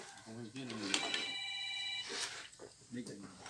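A telephone rings at home during a Thai New Year meal of spicy fish larb, a steady electronic ring lasting over a second between stretches of nearby conversation.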